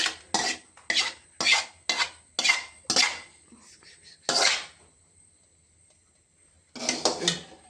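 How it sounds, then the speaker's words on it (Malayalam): A ladle scrapes and clanks rhythmically around a pot of payasam, about eight quick bright strokes in a row, then a pause with a faint high hum before stirring resumes. "ഇനി നമ്മളത് നന്നായിട്ട് ഇളക്കാം ഗൈസ്"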